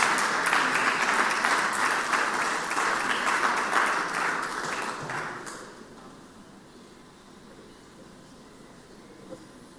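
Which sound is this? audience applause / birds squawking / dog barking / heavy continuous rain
audience applause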